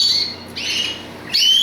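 A male canary at a bird show gives two sharp squawking calls separated by a brief warbling phrase, close and loud.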